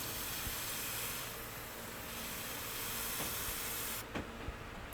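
Water sprays in a continuous soft hiss over the aerial roots of a plant, steady and fairly quiet, with a short break and a few light knocks toward the end.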